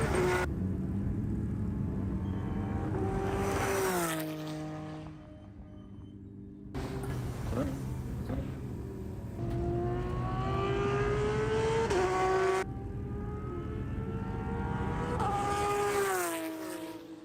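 Porsche Cup race cars at Chuckwalla, engines howling through rising gear pulls with sharp upshifts, several passes swelling in and fading as the cars approach and move away at a distance.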